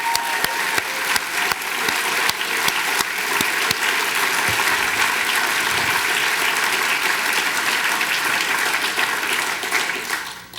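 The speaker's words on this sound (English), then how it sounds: "I would like to have us all give one more round of applause to all 10 recipients tonight." Loud, sustained applause from an audience at an evening Rotary Club awards ceremony honoring ten recipients, a dense wash of clapping that holds steady for about ten seconds before tapering at the end.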